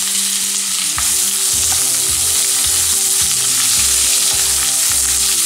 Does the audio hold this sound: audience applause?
no